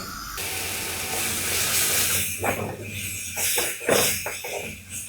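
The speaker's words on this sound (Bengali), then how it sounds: "পাঁচ মিনিট পেঁয়াজ ভালোভাবে নাড়াচাড়া করে ভাজতে হবে।" Onions frying in a pan for a hotel-style Bangladeshi taki fish bhorta, giving a steady, loud hiss with scraping bursts from stirring toward the end, heard alone without talk.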